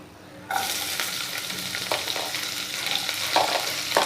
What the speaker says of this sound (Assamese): এতিয়া কাটি থোৱা পিঁয়াজখিনি ইয়াতে দি দিম মই।